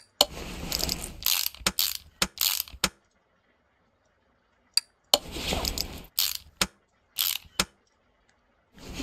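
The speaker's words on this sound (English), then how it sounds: "And this will put the alternator on it." Ratchet clicks from an alternator being fitted in Car Mechanic Simulator 2018 come in short, crisp bursts with quiet gaps between them, sharp and close.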